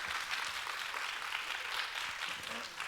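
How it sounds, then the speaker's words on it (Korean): A chapel congregation claps together, a steady, faint wash of applause that carries on throughout with no pauses. "뒤 돌아주시고 박수해 주시고"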